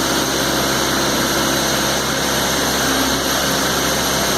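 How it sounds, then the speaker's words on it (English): A Kubota BH77 backhoe with a 16-inch bucket, mounted on a Kubota B3200 tractor, running its hydraulics as the arm extends and curls. It gives a loud, steady engine and hydraulic pump drone with no change across the few seconds. "What a beautiful backhoe made by Kubota. 16-inch bucket, nice hydraulics, smooth operation."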